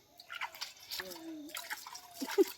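Water is sprinkled over garden plants in small amounts, giving soft nearby drips and light splashes while people talk over it.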